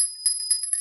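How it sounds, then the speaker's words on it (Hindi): Bells ring with a steady high metallic tone, and soft tinkling jingles shimmer across it. The sound is faint and brief. "ये घंटियां भी सुन रही हैं हमें कैलाश पर।"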